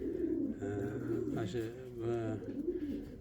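Uzbek pigeons kept in Osh coo close by in low, throaty rolling calls, while someone talks over them.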